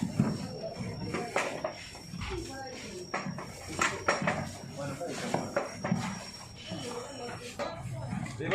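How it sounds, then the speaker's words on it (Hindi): Suji halwa is stirred in a large pot with a metal spoon, making repeated scraping and clanking strokes at a steady pace while a person talks over it. "इसी तरीके से इसको हिलाते रहें।"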